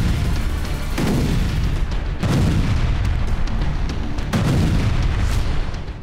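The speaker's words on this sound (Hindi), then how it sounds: "और यूक्रेन के खार्किव में शुरू हो गए धमाके।" Missile explosions striking Kharkiv, Ukraine, a few deep booms rolling through continuous low rumbling noise, heavy and distant-sounding, with no talking.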